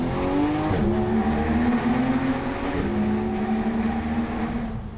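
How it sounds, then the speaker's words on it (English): Porsche GT3 engine and exhaust roaring through rising revs, with two clear upshifts breaking the climbing pitch before it settles into a sustained loud howl with no voices. "I've missed the GT3. And pure exhaust sound."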